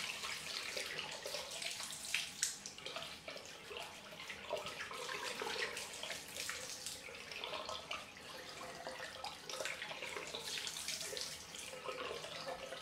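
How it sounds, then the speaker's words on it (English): Warm water runs steadily from a tap into a sink for rinsing after a wet shave, a continuous hissing splash with small irregular spatters, close and fairly quiet, with no talking. "Gonna wash off with warm water."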